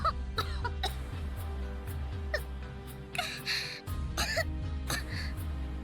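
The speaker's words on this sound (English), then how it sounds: "First to start coughing was Salio." Repeated coughing from characters overcome by smoke in the visual novel Root Double, several sharp coughs and throat-clearing bursts spaced across the span over a low, steady game background tone.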